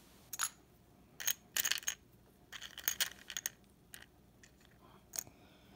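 Plastic game chips clack and rattle as they are lifted from and set onto an Axis & Allies 1942 board, a series of sharp, close clicking bursts separated by short pauses.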